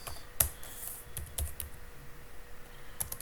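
Code being typed on a computer keyboard, a few sparse, soft key clicks spaced apart against a quiet room.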